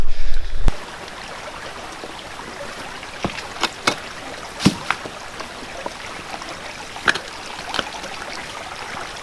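River water flows in a soft, steady wash, broken by occasional sharp splashes and knocks nearby, with a louder burst right at the start.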